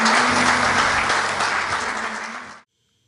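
Loud sustained applause from a church congregation at a Wednesday faith service, a thick wall of clapping that fades gradually and then cuts off into near silence.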